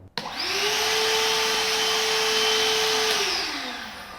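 A RIDGID full-size cordless vacuum starts with a click, spins up to a steady, loud whirring hum with a high airy hiss, holds for a few seconds, then spins down; close, no voices.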